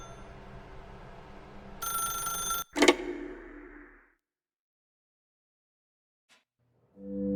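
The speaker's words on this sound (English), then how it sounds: "Now pick up the phone, said the bucket." A telephone in a video game rings in a short bright burst, followed by a sharp clack and a fading ring tone, then near silence with a faint tick.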